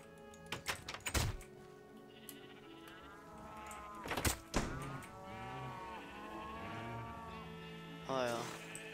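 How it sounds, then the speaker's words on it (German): Sheep in Minecraft bleat in short wavering calls mixed with thuds and soft game sounds, while players talk over them. "Schafe."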